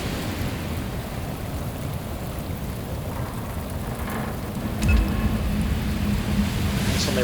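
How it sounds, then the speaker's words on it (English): Steady heavy rain pours continuously in a video game, Shadows of Doubt, with a faint low rumble like distant thunder in the background. "Even worse, it's raining right now."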